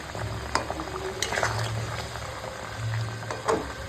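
Taro and other vegetables simmer in a gravy seasoned with salt, turmeric and red chilli powder for a hilsa fish curry, bubbling and popping steadily at close range with a few soft pot knocks.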